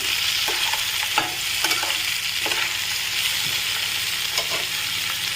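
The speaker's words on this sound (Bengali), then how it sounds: "এবারে আমি পনিরটা দিয়ে দিচ্ছি টমেটোটাও দিলাম আমি" Paneer and tomato fry in a pan, a loud, steady sizzle with repeated scraping strokes of stirring throughout.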